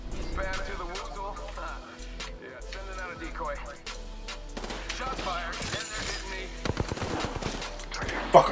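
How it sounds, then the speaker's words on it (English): Apex Legends firefight with a gold barrel stabilizer: bursts of automatic fire and sharp cracking impacts mixed with game sounds, with people talking over the shooting as it builds to heavy close volleys near the end. "Shots fired, and they're hitting me."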